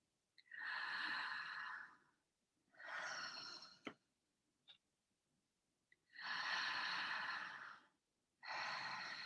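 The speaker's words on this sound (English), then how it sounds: "take 3 deeper breaths down into your lower abdomen" A person takes slow, deep breaths down into the lower abdomen during a guided breathwork session, with four long, close airy breaths separated by quiet pauses and a few small clicks.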